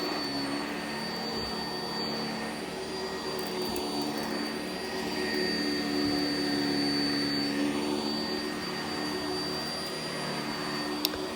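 A vacuum cleaner runs steadily over carpet during a carpet cleaning job, a loud continuous motor whine and airflow roar with a high-pitched tone, holding even throughout with no talking.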